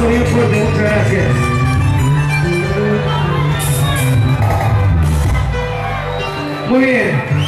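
A live show crowd cheers and shouts loudly at a cumbia band's performance, a dense and sustained roar with whoops, while a performer talks over it.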